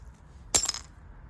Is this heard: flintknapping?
yes